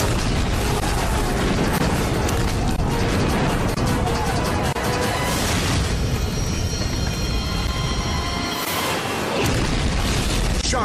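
A massive propane gas explosion: heavy booming, rumbling blasts and crashing bursts, loud and sustained with a few sharper peaks and a brief lull near the end.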